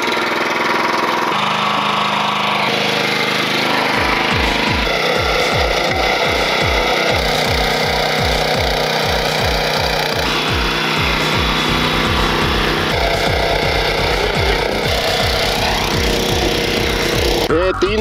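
A back rotary power weeder for farm use starts up, its small engine sputtering into a fast, steady, repeating knock that runs loud and close, with a light whine over it.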